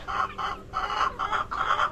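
Young Decal White chickens on a farm give a run of repeated clucks in short bursts, moderately close and fairly loud, with no talking over them.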